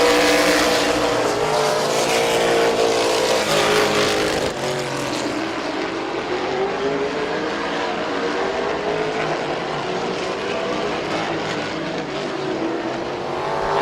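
Race cars roar around the oval at Midvale Speedway in a continuous loud engine drone that swells and shifts as the pack circles the track near the finish, with no voices over the noise.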